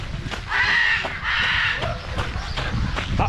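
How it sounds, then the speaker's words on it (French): Parrots at an exotic animal park give harsh, raspy squawks in two long bursts followed by shorter calls, loud and close amid background chatter. "Puis nous avons des perroquets."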